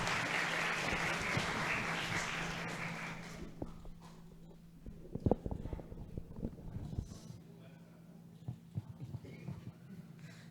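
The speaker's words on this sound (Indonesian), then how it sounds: "Tepuk tangan teman-teman" Applause from an audience at an education knowledge-sharing session in Indonesia: dense clapping for about three seconds, then it thins into scattered claps, thumps and a steady low hum.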